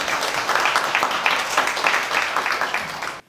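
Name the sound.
audience applause welcoming a conference speaker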